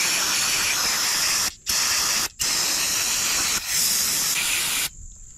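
Aerosol spray blasting grime off a 2000 Honda Accord distributor unit: loud steady hissing bursts, four long sprays separated by brief pauses, then a softer tail.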